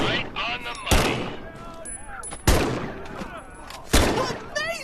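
Three loud, sharp M1 Garand rifle shots from the Medal of Honor: Above and Beyond VR game, spaced a second or more apart, with game voices and mechanical clicks between them.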